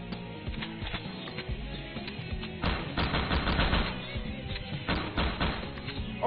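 Rapid bursts of gunfire from a fox character's gun in the Mushroom Kingdom Fusion video game, with dense clusters of shots over background game music and a thumping rhythm.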